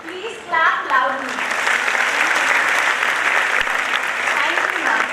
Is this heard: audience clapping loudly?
yes